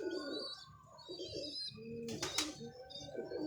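Pigeons coo softly in a loft, with low, repeated throaty calls and a few chirps, and a brief burst of fluttering wings in the middle.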